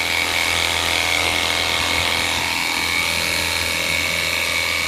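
A Leader cordless battery-powered pressure washer runs continuously with a steady high-pitched motor whine and hiss of spraying water, loud and close without pause.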